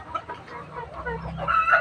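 Hens cluck on a poultry farm, a close, busy scatter of short clucks and squawks building in loudness toward the end, with no one speaking.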